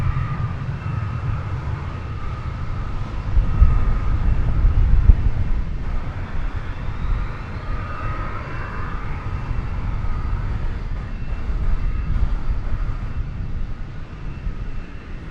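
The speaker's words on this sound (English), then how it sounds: "This 737 is off to the Motor City of Detroit" An American Airlines Boeing 737 takes off from DFW bound for Detroit, a low rumbling engine roar that swells and eases in waves, moderately distant and heard alone.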